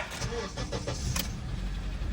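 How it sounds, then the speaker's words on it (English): A one-owner used car at auction turns over and its engine catches, producing a steady broadband rumble that settles into a smooth, fairly quiet running note with no talking. "Let's turn this bad boy on."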